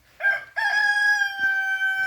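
A rooster crows loudly nearby in a backyard chicken coop, a short note and then a long drawn-out call, with faint rustling underneath.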